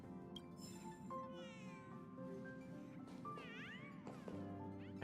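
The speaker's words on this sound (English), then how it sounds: "I hear cat." A cat meows repeatedly in a video game, several rising and falling calls over a steady hum of game ambience, fairly close and clear.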